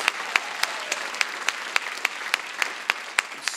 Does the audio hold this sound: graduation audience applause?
yes